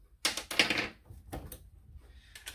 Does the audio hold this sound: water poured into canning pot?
no